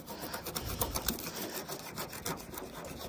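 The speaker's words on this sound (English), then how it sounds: "I'm gonna go to start sanding the whole thing down" Steady rasping friction of sandpaper working clear coat off a car body being repaired after a crash, continuous and close with small rhythmic surges, no voices.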